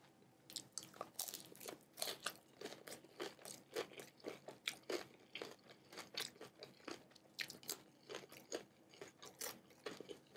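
Crunchy fried chicken is bitten and chewed up close, a dense run of sharp crackling crunches in an uneven rhythm for about ten seconds, with no talking.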